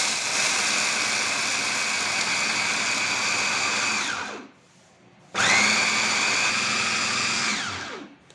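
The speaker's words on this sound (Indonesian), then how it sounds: "Kita pakai blender jenis food processor" Food processor grinds peanuts for Madiun-style pecel sauce, a loud steady whirring motor that runs, stops briefly for about a second, then starts again and runs on before winding down.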